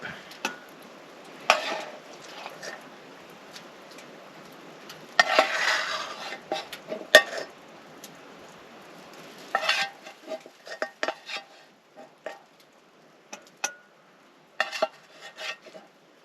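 Eggs cooking in grease in a pan on a hot tent stove in winter, with soft sizzling under scattered scraping and clinks of a utensil against the pan, fairly quiet and close.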